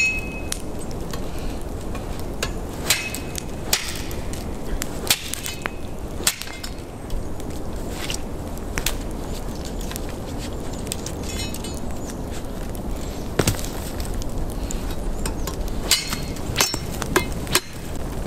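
A Truper machete chops into a thick branch outdoors in a string of sharp, close impacts, the blows coming irregularly over a steady background hiss without any talking.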